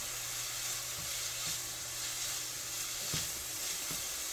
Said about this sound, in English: We're going to add black mustard seeds and some cumin seeds.